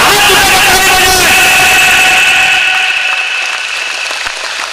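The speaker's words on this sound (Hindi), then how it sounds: "एक बार हाथ उठाकर ताली बजाएं।" An outdoor crowd at a welcome gathering for Om Mundel in Chotila claps, loud and dense at first, then thinning and fading toward the end, with a voice and engine-like hum mixed in.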